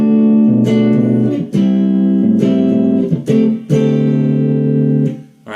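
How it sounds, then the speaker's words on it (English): Guitar strums a suspended D seventh chord in repeated, sustained, ringing strokes with brief breaks between them, loud and alone with no talk. "Another way of doing it is to play literally a suspended 7th."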